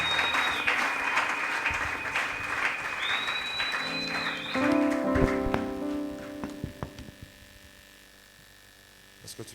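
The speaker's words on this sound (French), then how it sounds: "l'apôtre Emmanuel, est-ce qu'on peut célébrer le Seigneur avec des acclamations?" A church congregation at a special anniversary worship service in Kolwezi applauds and cheers, a loud sustained wash of clapping with shouts over a hum, easing off and thinning to scattered claps near the end.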